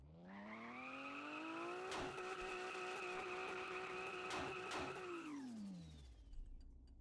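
A Porsche engine in the video game Car For Sale Simulator 2023 revs up to a steady high pitch, holds there with a few sharp clicks, then winds down to idle, loud and alone.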